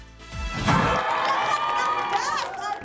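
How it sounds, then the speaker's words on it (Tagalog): Audience applause and cheering at the premiere of the MMFF film Manila's Finest, a broad crowd wash under music, with a thump at the start and a voice or tone sweeping near the end. "Palakpakan at hiyawan. May standing ovation pa."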